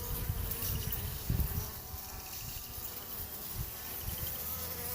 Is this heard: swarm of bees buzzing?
yes